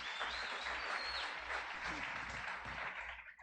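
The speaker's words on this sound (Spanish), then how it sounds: "Un aplauso." Sustained applause from a church congregation, dense and steady for a few seconds before tapering off, with a faint voice rising briefly over the clapping.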